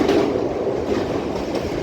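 A train runs along the Egmore to Beach railway line in a steady loud rumbling roar with faint rhythmic clatter, no talking.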